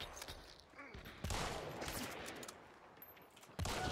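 Rapid gunfire and scattered shots crackle through a video game firefight, mostly at a steady mid-distance level, with a louder burst near the end and faint player voices underneath.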